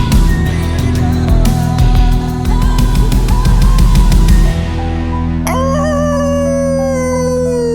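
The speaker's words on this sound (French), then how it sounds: "Ça va plus l'air d'un coq." A rooster crows after a loud stretch of music and other noise, one long, drawn-out call that rises and then falls clearly near the end, with no voices.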